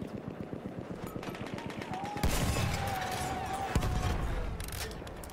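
Gunfire in the Battlefield 1 video game, a rapid automatic burst followed by heavier booming shots and continuous battle noise, loud and close, with no speech over it.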